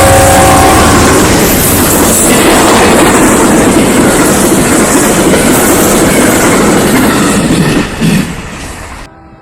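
A train roars past on the tracks, loud and close, with a dense rumble of wheels and rail noise that holds steady before fading away at the end.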